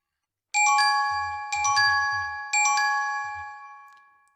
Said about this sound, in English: tap this button and the shop gets an instant alert. Hear that? That's the notification.